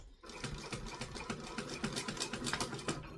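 A domestic sewing machine stitching a seam forward and back, a fast, even mechanical whir with rapid needle ticks, close up and fairly quiet, running continuously with no talk.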